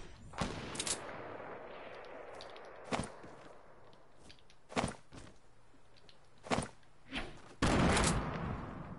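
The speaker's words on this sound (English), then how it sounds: "I was getting shot from south" Video game gunfire in a new-season battle royale match: sharp single shots crack out at irregular intervals over about nine seconds, some close and loud, others slightly distant, with a final heavier burst near the end, no talk.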